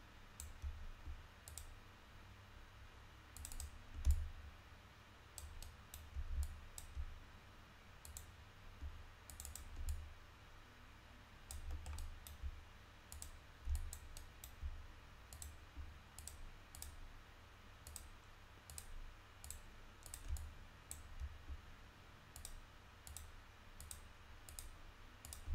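Steady, close mouse clicks run through a session of UV and edge-loop work on a head model in Maya, arriving singly and in quick pairs over a low hum with no talking.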